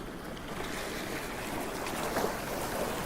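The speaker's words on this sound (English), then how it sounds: "you can hear that beautiful sound of the waves lapping up against the shore" Waves wash and lap steadily against a sandy shore in a continuous broad rush, with some wind, close and even throughout with no voices.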